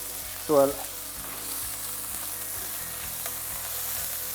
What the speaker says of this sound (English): Now, I'll start with the beef. You want it to cook very fast and brown.